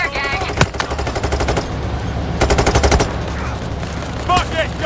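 Rapid gunfire bursts in the video game PayDay 3, loud automatic volleys cracking in two dense clusters with scattered single shots between, sharp and close.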